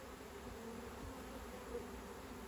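Honeybees hum around open hive frames, a faint, steady, continuous drone with no voices.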